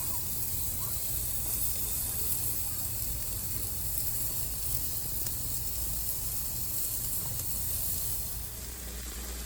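Bacon fat and white onions sizzle on a heated Weber Q grill, a steady bright hiss that holds close and even throughout, easing slightly at the very end.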